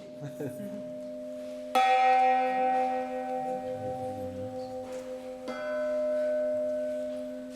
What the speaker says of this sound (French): cette cloche, elle a un peu plus de 200 ans